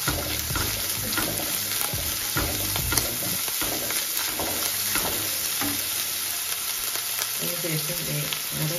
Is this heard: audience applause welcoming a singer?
no